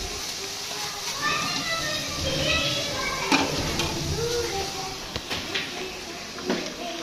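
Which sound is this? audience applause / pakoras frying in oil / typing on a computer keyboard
pakoras frying in oil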